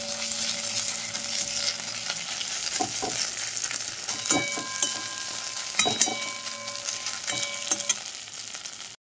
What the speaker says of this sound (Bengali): আঁচ হালকা রেখে মশলাটা কষালে তেল খুব কম লাগে।